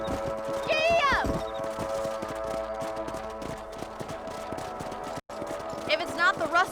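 Hoofbeats from a horse ridden in Red Dead Redemption patter in a steady rhythm under the game's ambience, with a brief horse whinny near the start and again near the end.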